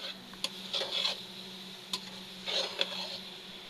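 Leafy greens are stirred in a cooking pan in a home kitchen, giving a few soft, scattered scrapes and light clicks of the utensil against the pan over a quiet, steady background hum.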